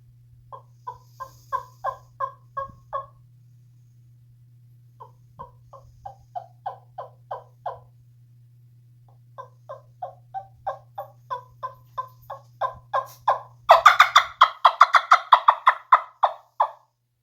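A wingbone turkey call imitates a hen's fly-down cackle: spaced runs of soft clucks build into a fast, rising cackle at the end, close and clear with no talk.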